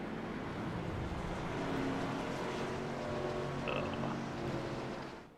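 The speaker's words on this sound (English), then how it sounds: "We should have some iRacing sound in the background now so we can hear these beautiful engines." Race car engines in iRacing during a Racers Elite Xfinity Series race at Richmond's short track: a steady, dense drone of several engines blending together, with no gaps and no talk over it.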